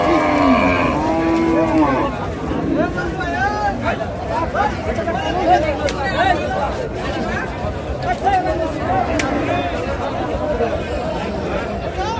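Cows and calves at Chhatra Haat cattle market in Naogaon lowing repeatedly, several loud moos close by and others overlapping, set amid a busy crowd hubbub and chatter.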